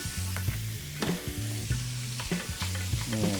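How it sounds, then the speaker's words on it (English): Ground pork fries in butter in a skillet for dirty rice, a close, busy sizzle with bursts of crackle and spoon scrapes stirring through it. "I'm going to take 3 tablespoons of butter and add that to our skillet. Then we're going to add in our ground pork."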